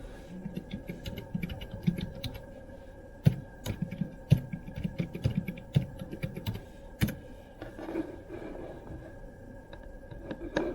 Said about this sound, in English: I have to type the whole thing down.